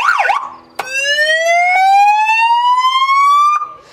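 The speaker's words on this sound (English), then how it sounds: "this aircraft is actually equipped with a very loud siren" A very loud siren mounted on an A22 Foxbat Kelpie light aircraft wails alone, one rising tone climbing steadily for about three seconds after a brief warble, strong and close with rich harmonics.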